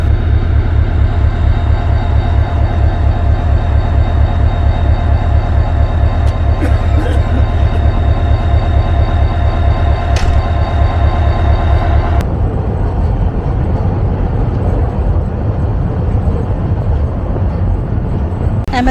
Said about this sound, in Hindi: HGMU 30R8206 इस लोकोमोटिव का आइडल साउंड सुनते हैं